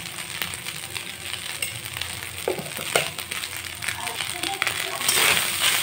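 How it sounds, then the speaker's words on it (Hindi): Leftover cooked rice fries in a pan with a steady low sizzle, broken by a few close scrapes and clinks of a utensil, and the sizzle swells louder near the end. "जो बचा हुआ चावल है उसको हम लोग फ्राई करेंगे।"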